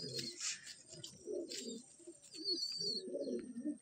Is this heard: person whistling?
no